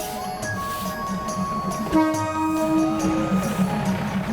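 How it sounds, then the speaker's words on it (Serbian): A train rolls by slowly nearby, with rhythmic wheel clatter, tonal squealing and a sustained horn-like drone over a low rumble. "Evo ga voz, tačno na vreme"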